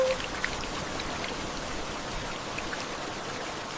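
Steady rain falls outdoors in nature, a soft even hiss of many droplets with occasional louder drips, continuous and fairly faint throughout.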